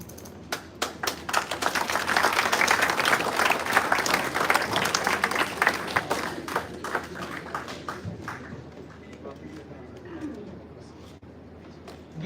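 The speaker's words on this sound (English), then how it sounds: "Give a huge round of applause." An audience at an institute event in Gurgaon applauds a guest, Dr. Aprajita Prasad, with loud, brisk clapping from many hands and a few sharp close claps, gradually fading and thinning as a voice begins talking.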